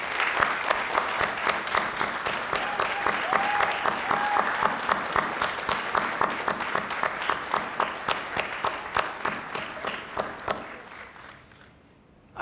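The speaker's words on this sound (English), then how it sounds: "I want to ask us all to give you a round of applause right now" Applause from an audience at a high school ribbon cutting ceremony for Dr. Bartholomew, a long, full round of many hands clapping that settles into a loose rhythmic beat, gradually thins out, and ends in near silence.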